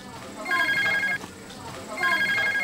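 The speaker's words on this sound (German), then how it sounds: "wenn das einzige Telefon im Ort zur verabredeten Zeit klingelt" An old telephone bell, the only phone in a Russian village, rings in two bursts with a pause between, over a steady room background.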